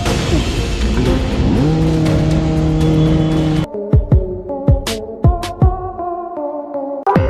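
A motorcycle engine roars loudly in a mountain forest, revving up in a sustained, rising drone for a few seconds, then cutting off into a series of sharp, separate knocks and clatters.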